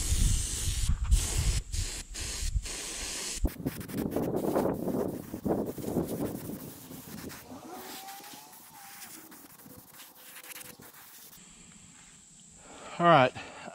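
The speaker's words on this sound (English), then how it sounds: "I finished all I'm going to do with the airbrush." An airbrush sprays paint onto a carved wooden smallmouth bass outdoors, a steady hiss that comes and goes in short bursts before fading, with a brief sharper sound near the end.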